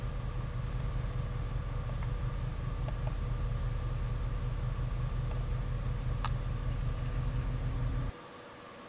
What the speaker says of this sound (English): There's a lot of cars driving by